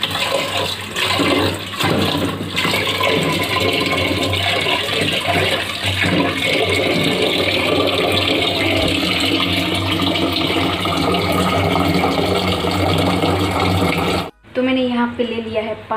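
Water pours loudly and steadily into a pot for bamboo curry for about fourteen seconds before stopping abruptly, followed by a voice speaking.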